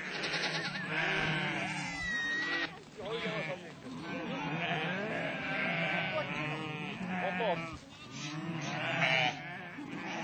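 Sheep and goats bleat repeatedly at close range in the morning at a nomad camp in western Mongolia, overlapping calls over steady farmyard ambience, with a voice now and then.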